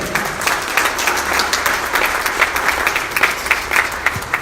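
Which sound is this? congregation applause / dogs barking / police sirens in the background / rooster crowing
congregation applause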